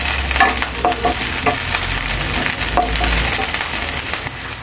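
Sliced onion and green chillies fry in a pan, giving a loud, steady sizzle broken by scraping and stirring clicks throughout, with no talk.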